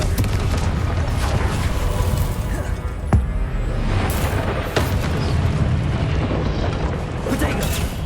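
A Confringo spell explosion from Hogwarts Legacy bursts in a dense, continuous roar of booms and crackling blasts, loud and sustained, with sharp cracks standing out and a voice calling spell names over the din.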